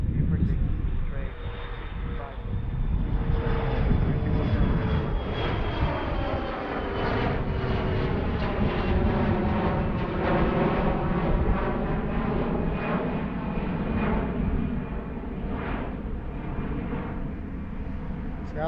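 A Blue Streak jet takes off from runway 9 left at Philadelphia airport, its engines a broad, steady roar with a rising whine, heard from a distance throughout as voices talk faintly underneath.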